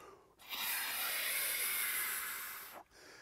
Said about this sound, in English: Without the reed, the oboe might sound like this.